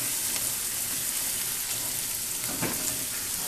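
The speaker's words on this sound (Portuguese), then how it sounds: "Ó, já tá ficando douradinha a minha cebola." Onion frying until golden in a pan gives a steady, close sizzle with faint crackles and a soft stir or two, no voices.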